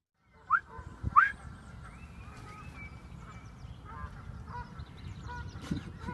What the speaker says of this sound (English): See how close I can get this goose.